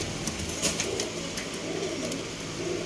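Sialkoti pigeons coo softly from a loft in Sialkot, with low, repeated coos over a light background hum and no speech.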